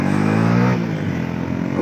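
A Honda Exmotion motorcycle revs loudly up close as it accelerates, its engine note rising and then dipping briefly for a gear shift before pulling again, with no talk over it.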